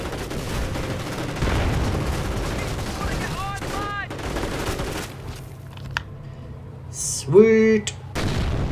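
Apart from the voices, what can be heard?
mortar fire and explosions in Company of Heroes video game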